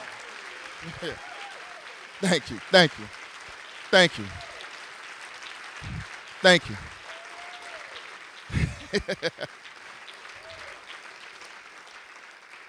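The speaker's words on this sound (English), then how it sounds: "You can clap." Audience clapping after a spoken word performance, a few scattered bursts of claps rising between the performer's repeated thanks, with speech over much of it.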